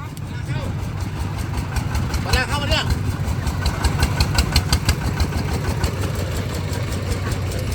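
A single-cylinder RT140 engine fitted into a converted open-top Mercedes car: a loud, rhythmic chugging idle with evenly spaced pulses, heard close up with people talking in the background.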